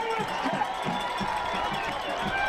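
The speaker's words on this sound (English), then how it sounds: "To the raucous joy of the crowd, LTU gets up in this game" A football crowd cheers after an LTU touchdown against Indiana Wesleyan, a broad sustained roar heard under an announcer's commentary.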